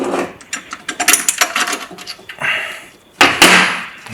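A wrench works on tight bolts on a Ferguson FE35 vintage tractor engine, making close, irregular bursts of ratcheting clicks and metallic scrapes with brief pauses between turns.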